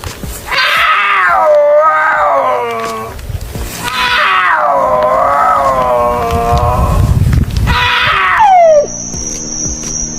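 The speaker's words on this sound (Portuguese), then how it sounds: "A onça parda ela tem um som peculiar, diferente. É como se fosse um gato miando mesmo, gritando na verdade." A cougar's scream played back from a recording: long, wavering, catlike wails in three drawn-out cries, loud and close, with steady background hiss between them.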